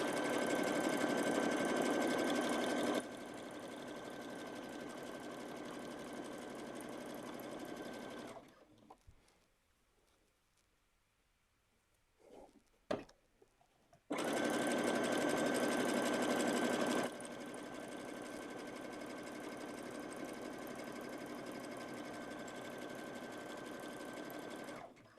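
A new, high-end sewing machine sews along stretched elastic to gather fabric, whirring steadily in two long runs separated by a quiet pause with a few faint clicks.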